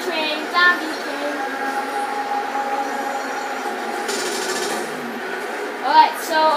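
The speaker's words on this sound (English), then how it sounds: "Oh, there's a zombie train." Zombie train passing in a video game, a steady rolling rumble of wheels on rails held at moderate level throughout, with brief squeals and sharp effects near the start and end.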